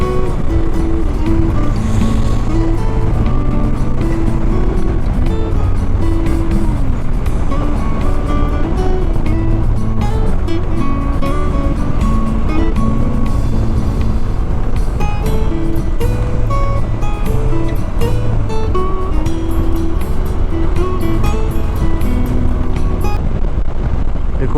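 A bike rolls downhill at a steady 40 to 50 km/h on a mountain road, its motor low and unrevved, under loud, continuous wind and road roar with no break throughout.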